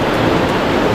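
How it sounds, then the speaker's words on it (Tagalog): Strong, fresh cold water rushes loudly and continuously at the Camp Paraiso resort, a dense, steady roar close by with no voices over it. "Malakas yung tubig."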